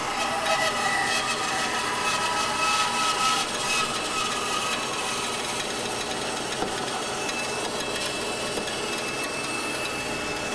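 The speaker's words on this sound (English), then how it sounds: "Let the saw do its work and let it cut" A saw cuts steadily through a solid block of wood on a curved cutting jig, a continuous dense rasping buzz that holds evenly at close range with no talking.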